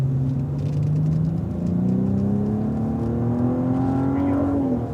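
A Cadillac ATS-V powers out of a corner on a racetrack, its engine note rising steadily as it accelerates, loud and close from inside the car, then dropping off sharply as the throttle eases.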